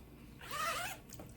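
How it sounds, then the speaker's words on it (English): A zipper slides open on a small handmade fabric purse, a single soft rasping pull lasting under half a second, close and quiet with no talk. "Now I'm going to open up my zipper"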